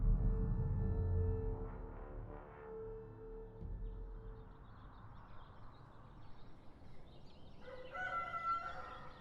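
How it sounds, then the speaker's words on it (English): A rooster crows in the distance near the end, its drawn-out call rising over a low ambient rumble. "It was around 4:30 in the morning when I heard the first rooster."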